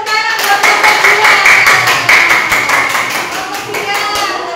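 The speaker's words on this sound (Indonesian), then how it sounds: "tepuk tangan buat kelompok 2" A classroom of students claps for a presenting student group, a steady burst of loud, dense hand clapping that holds for several seconds and tapers slightly toward the end.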